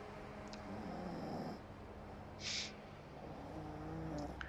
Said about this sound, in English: And I guess she snores.